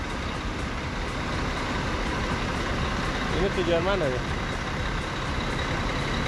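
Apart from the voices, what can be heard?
Harapan Jaya bus departing for Blitar at Cicaheum terminal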